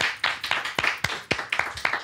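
Small studio audience clapping hands, about eight distinct sharp claps in an uneven rhythm, close and fairly loud with no talking.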